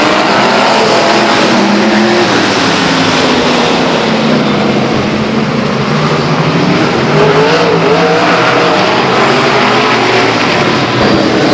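Renegade sprint cars race at Stockton 99 Speedway, a loud, steady roar of several engines layered together, with pitches rising and falling as the field goes around the oval.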